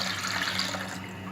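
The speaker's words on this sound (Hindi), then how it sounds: "मैं दूध को कढ़ाई में डाल रही हूँ।" Milk is poured into a silver kadhai, a steady close liquid splashing and gurgle that runs briefly and continuously with no talk.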